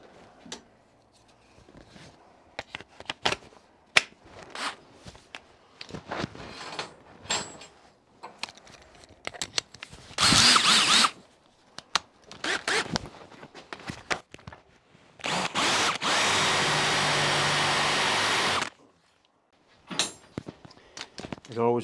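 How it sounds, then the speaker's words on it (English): A cordless drill bores holes for a large vice stand in a workshop, with two sustained loud bursts of whirring drilling separated by clatter, footsteps and handling noise; someone talks between the bursts. "Right, drill some more holes."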